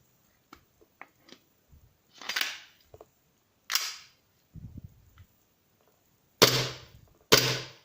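A Glock 17 airsoft pistol is dry-fired without BBs. Its blowback slide cycles with sharp, close mechanical snaps: a few scattered ones, then two loud cracks at the end, with light handling clicks in between.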